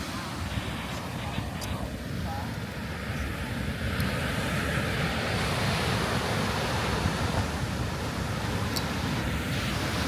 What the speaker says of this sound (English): The waves are crashing